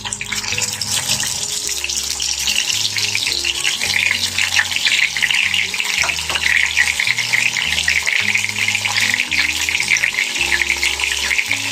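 Pieces of meat frying in a spoonful of ghee over a little oil, a loud continuous crackling sizzle with splattering bursts, heard over background music.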